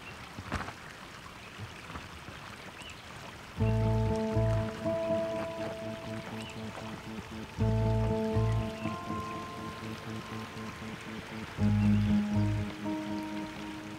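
A mountain stream flows with a steady, even rush, and recurring bursts of low sustained musical tones play over the water noise.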